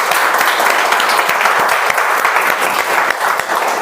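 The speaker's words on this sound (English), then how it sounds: "a huge round of applause to both the teams" A debate audience gives both teams a dense, steady round of applause, many hands clapping together loudly with no pause.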